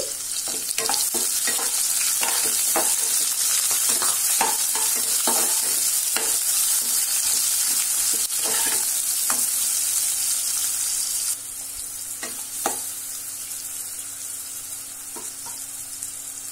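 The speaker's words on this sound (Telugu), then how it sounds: "అందులో 2 ఉల్లిపాయల్ని సన్నగా తరుక్కొని వాటిని వేసి ఎర్రగా వేయించుకోవాలి." Two finely chopped onions fry in a pan for hotel-style tomato upma, a loud, steady sizzle under repeated spoon scrapes and taps, dropping somewhat quieter partway through as stirring continues; no talking.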